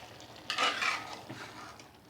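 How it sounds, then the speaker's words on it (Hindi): Coriander and green chillies mixed into keema with green beans in a pan: one brief, faint scrape of a spoon stirring, surrounded by quiet. "अब मैं इसके अंदर ये सब्ज़ धनिया और सब्ज़ मिर्च डालूँगी और इनको अच्छी तरह मिक्स कर लूँगी"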